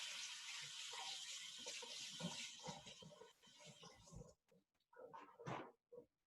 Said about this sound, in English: So rinse it under cold water.